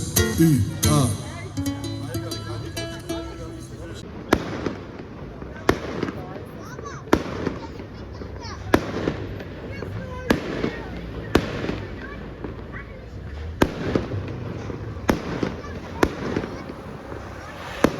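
Fireworks burst over Tbilisi at night, a series of loud sharp explosions arriving every second or two amid ongoing crowd noise and voices talking.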